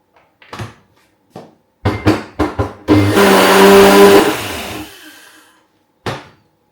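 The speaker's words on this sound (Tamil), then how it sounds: "மிக்ஸ் பண்ணி போட்டு இதே மாதிரி அரைச்சிருப்போம்." A few clicks and clatters, then a mixer grinder whirs loudly for about two seconds and winds down, followed by another click.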